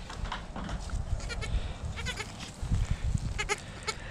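A young lamb bleats several times close by in short, wavering cries with brief pauses between them.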